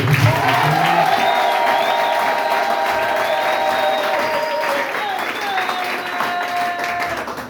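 A church congregation applauds loudly and steadily, with dense sustained clapping and some cheering, while sustained musical tones carry on underneath.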